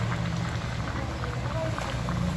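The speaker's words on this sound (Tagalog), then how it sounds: "kulong-kulo na yung ating niluluto at nag-evaporate na yung kanyang suka" A pot of ginataang tilapia, tilapia stewed in coconut milk with vinegar, bubbles at a hard rolling boil, giving a steady close bubbling hiss with low gurgling throughout and no talk.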